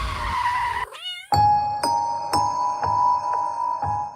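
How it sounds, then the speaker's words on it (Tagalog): A black cat crossing a road at night during a drive, with a drawn-out meow near the start followed by a sharp cut and a bright repeating ding-dong chime ringing steadily several times. "may tatawid na itim na pusa."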